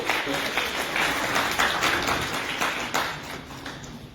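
A crowd at a launch event for a Hindi weekly newspaper applauds in a dense, continuous wash of clapping, loud and close, with a voice faintly audible beneath it.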